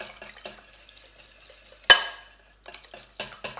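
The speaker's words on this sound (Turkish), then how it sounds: "Böyle yavaş yavaş şöyle hemen karıştıralım." Caramel pudding mixture with egg is stirred slowly in a pot: soft scraping and tapping of a utensil against the metal, with one sharp clink midway and scattered small knocks.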